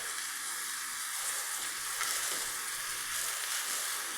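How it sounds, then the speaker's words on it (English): Fresh kale hits a hot pan and sizzles in a steady, close, bright hiss of frying with faint stirring and no voices. "And then we're going to add our kale."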